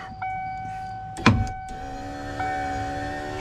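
A power window motor in a Ford truck, Bronco or F-series, whining steadily as it drives the window, with a sharp click or thump near the middle before the motor hum continues close by.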